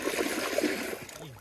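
A carp thrashes at the surface of a dirty river while being landed. The splashing and sloshing water sounds are short and close, with a faint voice mixed in.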